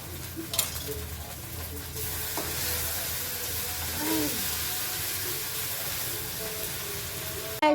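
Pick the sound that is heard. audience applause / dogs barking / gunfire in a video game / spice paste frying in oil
spice paste frying in oil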